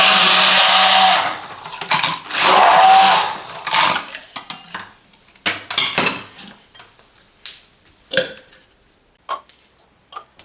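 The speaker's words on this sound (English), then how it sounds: "Here's how to clean your blender blades easily and safely." A Silvercrest SSMD 1000 digital hand blender whirs loudly in two short bursts, followed by clinks and knocks of the blades and attachments being handled and rinsed.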